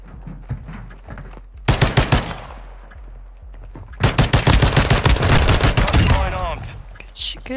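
Call of Duty Modern Warfare II gunfire cracks out in two loud rapid bursts of sharp shots, with game effects and a brief voice between them.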